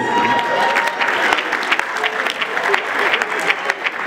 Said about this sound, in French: On applaudit pour les effets.